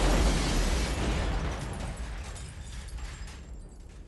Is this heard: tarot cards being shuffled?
no